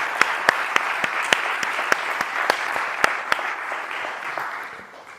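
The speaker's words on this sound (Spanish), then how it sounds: "vamos a dar un aplauso" Audience applause at a talk on soil fauna, a steady wash of many hands clapping with a few sharp loud claps standing out, fading toward the end.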